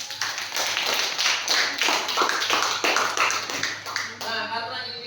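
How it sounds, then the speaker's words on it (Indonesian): A small group claps for several seconds, brisk and close, then the applause fades out. "Kita kasih tepuk tangan untuk Sulit."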